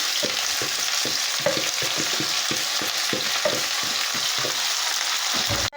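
Chopped onion frying in oil, a steady close broadband sizzle with rhythmic stirring scrapes through the clip, no voices.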